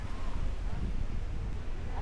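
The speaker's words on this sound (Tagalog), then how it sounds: "Lakas ng hangin, oh." Steady wind roaring and buffeting close to the microphone, with low rumbling gusts throughout.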